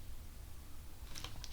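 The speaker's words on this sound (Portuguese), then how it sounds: "eu dei um exemplo do teclado porque é o que eu uso aqui" Keys clicking on a Braille computer keyboard, a short burst of a few quick taps near the end, faint over a quiet room hiss.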